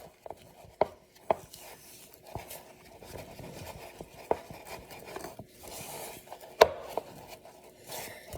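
Sticky marshmallow chocolate chip cookie dough being mixed by hand, a quiet scene of soft scraping and squelching broken by a few sharp knocks of the utensil against the bowl.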